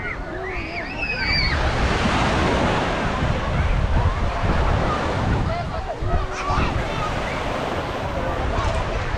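Surf rolls in steadily at Reviola beach in Batam, a broad continuous wash of breaking waves with heavy wind buffeting the microphone, loud and close throughout.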